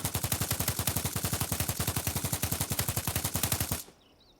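Rapid, evenly spaced mechanical clacks repeat about ten times a second for nearly four seconds, a loud video-game gun reload effect in an older implementation, then cutting off sharply to near silence.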